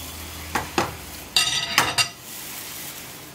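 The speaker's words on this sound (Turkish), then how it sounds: "ince olacak şekilde tavaya dökerek hızlıca yayalım" Yufka batter poured into a hot greased pan, giving a few short sizzling bursts and scraping swishes as it is spread thin, close and fairly loud against a quiet kitchen.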